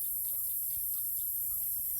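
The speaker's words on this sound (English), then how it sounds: "It's just chicken, free ranging." Free-range chickens cluck faintly and intermittently outdoors, low in level against a steady background of wind and insect hiss, with no one talking.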